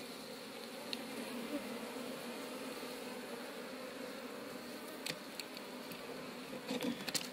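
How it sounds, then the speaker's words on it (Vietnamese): Honeybees hum steadily around their hives in an outdoor apiary, a constant droning buzz at moderate level with a few brief sharp knocks toward the end. "Ong mọi người thấy không, nó đi làm ù."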